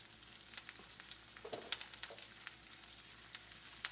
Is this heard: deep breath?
no